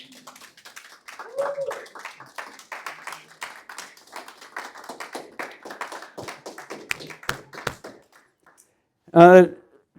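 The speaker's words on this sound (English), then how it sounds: "if you want to give her a clap" A crowd claps steadily for Linda at a gathering, with dense, overlapping hand claps running for several seconds before fading out. Voices are heard briefly over the applause.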